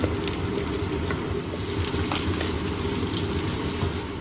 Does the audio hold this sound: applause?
no